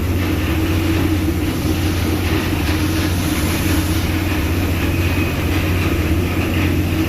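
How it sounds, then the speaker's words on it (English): Ninety-year-old steamboat engines run loud and steady right behind the paddle wheel, a continuous low mechanical rumble and drone filling the engine room without a break. "These engines are like 90 years old. But I am right up behind the paddle wheel."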